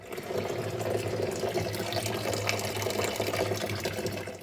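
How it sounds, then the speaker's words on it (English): Water runs steadily out of a Subaru WRX STi cooling system during a coolant flush, a continuous close trickle and gurgle over a low hum. "let this sit and drain the water and see what kind of gunk comes out"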